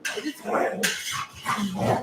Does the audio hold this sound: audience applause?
no